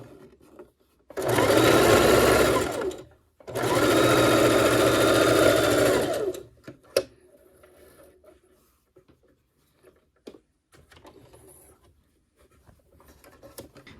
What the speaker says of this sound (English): I'm just going to sew right on down here after I throw my machine again.